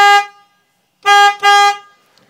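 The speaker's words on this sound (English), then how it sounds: "So here is the new horn." An aftermarket FIAAM Freeway Blaster horn fitted to a Honda Element sounds loud and near: one short blast, a pause, then two longer blasts in quick succession, each a bright, brassy tone.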